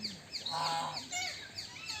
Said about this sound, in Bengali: দেখতেই পাচ্ছ তোমরা এখানে অনেক হাঁস রয়েছে